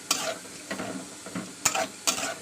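Masoor dal with spices being stirred in a pan, several sharp spoon scrapes and knocks over a soft sizzle, close and clear with no talk.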